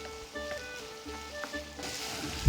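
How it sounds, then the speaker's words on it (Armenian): Salted vegetables frying in a pan, a soft steady sizzle beneath background music that grows louder toward the end. "որպեսզի բանջարեղենը ավելի հեշտ տապակվի։"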